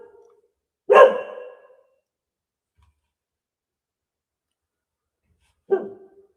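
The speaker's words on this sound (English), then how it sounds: "Why do I hear barking? Does anybody else hear barking?" Two dog barks ring out clearly against silence: a loud, full bark near the start, then a shorter, slightly softer one several seconds later.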